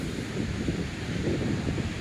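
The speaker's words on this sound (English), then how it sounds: "Taking a look now at the waves breaking" Ocean waves break on a flat, low-dune beach between Ocean City, Maryland and Assateague Island, a steady washing roar mixed with wind buffeting the microphone, with no voices.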